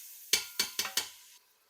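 Rice goes into a pot of spiced clarified butter that is already bubbling, giving four sharp rattling, sizzling bursts in quick succession before the sound fades to a quiet simmer.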